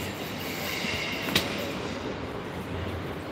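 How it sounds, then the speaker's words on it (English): A train pulling out of a station in the Netherlands, a steady rolling rumble of rail cars with one sharp brief squeal or clank partway through, heard alone with no talk. "this is the train I was on it just left"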